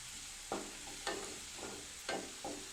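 Ginger for inji puli pickle fries in hot oil with a steady, quiet sizzle, punctuated by five distinct scraping stirs of a spatula against the pan.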